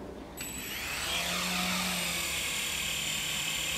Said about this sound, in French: Et ensuite, l'hélicoptère est prêt à fonctionner.